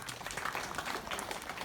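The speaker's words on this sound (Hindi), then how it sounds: "तो क्या आप लोग एक बार और इनके लिए ताली बजा सकते हैं?" An audience at a village natural-farming awareness event in Motipur, Azamgarh claps in a short, dense burst of applause, a crowd of many hands sounding fairly close.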